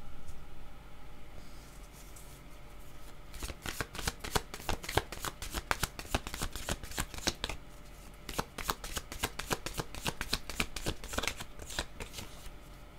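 Tarot cards being shuffled in repeated quick bursts of riffling and flicking, close and fairly loud, with a short pause midway before the shuffling resumes; no talking.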